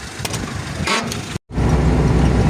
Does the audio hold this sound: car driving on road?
yes